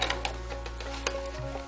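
Sewing machine double-stitching fabric for a tarot bag, a fast, steady mechanical ticking and whirring, close and moderately loud.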